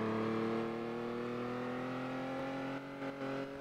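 BMW 535i engine in a Roblox driving game, a steady, loud revving whine with a smoothly rising pitch, close and continuous, briefly dipping near the end.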